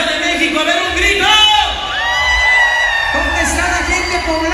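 A live audience at a concert in New Jersey shouts, whoops and cheers in loud bursts, rising and falling across the clip.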